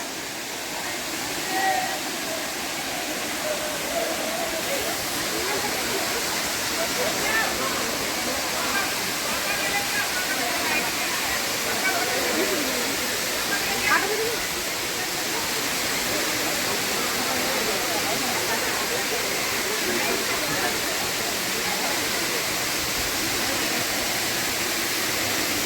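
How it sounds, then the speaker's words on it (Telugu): Talakona waterfall near Tirupati, dropping about 200 feet in summer, roars as a loud, steady wash of falling water, with someone speaking over it and crowd noise faintly mixed in. "ఇదే తెలకోన వాటర్ ఫాల్స్."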